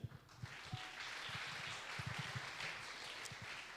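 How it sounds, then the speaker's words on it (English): Audience at a startup pitch event claps for the Founders Institute team, a short burst of scattered, moderately loud applause with uneven individual claps. "Big applause for them."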